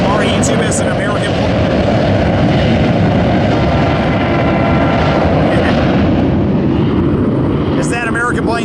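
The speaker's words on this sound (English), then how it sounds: "As that American plane takes off" An American airliner taking off near San Diego rumbles loudly and steadily throughout, a broad roar of jet engines. A voice speaks over it.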